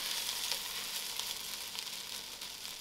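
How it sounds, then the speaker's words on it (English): Onions frying and browning in a pan for budget onion soup, giving a steady, close hiss of sizzling that runs unbroken throughout, with faint stirring crackles and no talking. "my onions are starting to brown up"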